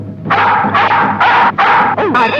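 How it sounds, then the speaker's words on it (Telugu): A hunting dog barks close and loud in a film scene, with four sharp barks in quick succession followed by higher whining yips. "ఎవరిదో వేట కుక్కలా ఉంది"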